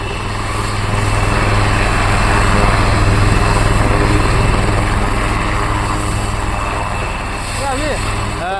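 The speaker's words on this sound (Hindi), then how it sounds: "सेना के इस हेलीकॉप्टर की इमरजेंसी लैंडिंग हुई है" An army helicopter with a technical fault makes an emergency landing in a farm field in Sangli, Maharashtra, its rotor and engine giving a loud, steady roar that runs unbroken throughout, close and dominant.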